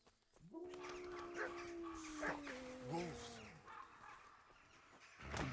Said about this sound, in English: I'm hearing a dog.